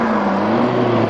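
A muscle sports car with a large air scoop revs hard under acceleration, a loud, steady engine roar with a strong droning tone, close by and uninterrupted for a brief moment.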